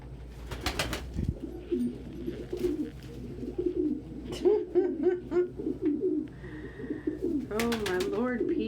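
Pigeons or doves cooing steadily in a low, rolling rhythm, close and continuous, with a few brief sharper bird chirps near the end and faint background noise.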